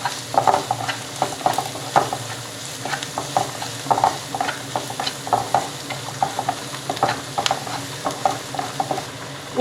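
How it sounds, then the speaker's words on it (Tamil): Ginger garlic paste and curry leaves sautéing in a pan on low heat for a vegetarian kola urundai kulambu: a steady close sizzle broken by repeated scraping stirs of a spoon against the pan, with no talk. "இப்போ இஞ்சி பூண்டு பேஸ்ட் ஆட் பண்ணதுக்கப்புறம் 1 நிமிஷம் சிம்மில் வதக்கிக்கோங்க"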